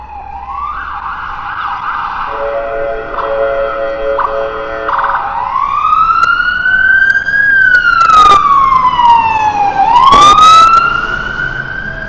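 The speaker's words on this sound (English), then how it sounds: "So we're right by the hospital right now, guys, so seeing an ambulance isn't a big deal." An ambulance siren wails loudly through a city street on West Broadway in Vancouver near a hospital, shifting from a steady two-tone pattern into rising and falling sweeps as the vehicle passes close by.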